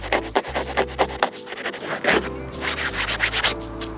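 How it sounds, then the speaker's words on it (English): Steady scraping and rubbing across the surface of a faded Sparco racing seat to lift off crayon, a close, rhythmic series of short rasping strokes with brief pauses between them. "Scraping it, because I did put that crayon on there."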